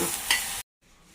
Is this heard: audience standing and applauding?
no